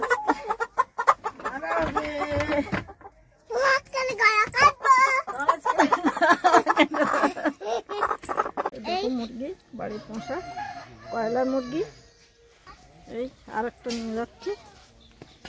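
Home-raised broiler chickens cluck and call repeatedly close by, with varied pitch, while people talk over them.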